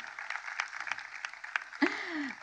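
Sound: audience applause at a memorial celebration speech

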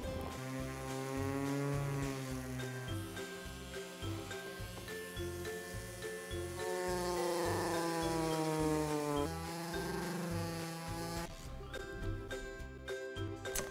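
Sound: mini grinder grooving glass for an LED frame

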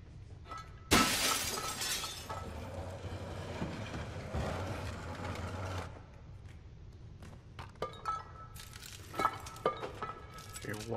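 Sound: glass windows shattering in Little Nightmares 2 (video game)

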